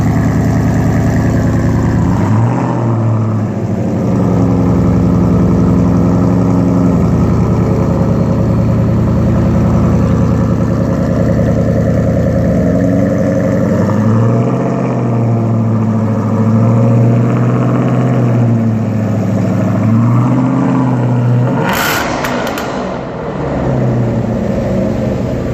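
A supercharged 2017 Ford Mustang Roush Phase II with 727 horsepower cold-starts into a loud, rough idle, then gives several drawn-out revs that climb and fall back, close up and continuous with no voices.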